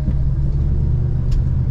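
A 1972 Plymouth Road Runner on the move, a steady, loud low rumble of engine and road noise filling the whole stretch with no break.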